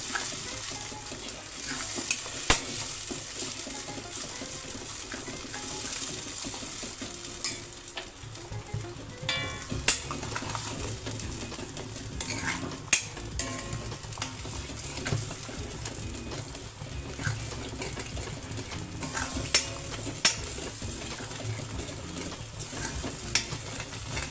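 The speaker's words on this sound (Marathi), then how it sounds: "यामध्ये वाटाणा ॲड करून आपण व्यवस्थित त्याला मिक्स करून छान याला भाजून घ्यायचं आहे" Ground masala paste with green peas roasting and being stirred in a pan, a steady low sizzle with frequent spoon scrapes and clinks, and pigeons cooing faintly in the background.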